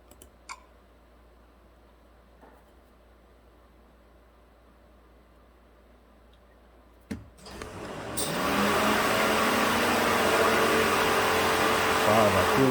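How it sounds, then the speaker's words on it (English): After several seconds of near quiet with a few clicks, the engine cooling fan of a 2011 Ford F-150 kicks on during a key-on engine-off self-test and roars loudly and steadily as a broad rushing whoosh. "that cooling fan's pretty loud"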